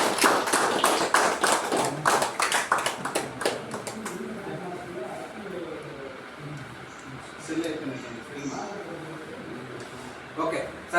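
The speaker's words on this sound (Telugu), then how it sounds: "దయచేసి అందరూ కూడా గట్టిగా క్లాప్స్" Audience applause at an honouring ceremony during an electric bike business event, a burst of clapping for the first few seconds that fades into talk and room murmur.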